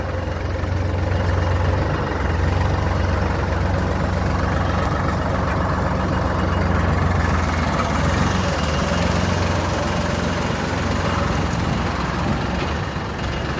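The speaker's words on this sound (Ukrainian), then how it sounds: "Трактор на 50 кінських сил." A Solis 50-horsepower tractor engine idles steadily nearby, a continuous low rumble and chug that stays even throughout with no pauses.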